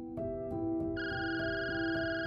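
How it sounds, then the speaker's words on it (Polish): A telephone ringing with steady electronic tones that pulse in a regular pattern, a higher tone layered in partway through, clear and close with no voices. "Kiedy Linda usłyszała dźwięk dzwoniącego telefonu, początkowo nie chciała odebrać."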